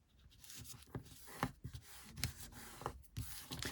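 Paper is folded into pockets for a junk journal page, with quiet, close rustles, creases and soft rubbing strokes in an irregular rhythm.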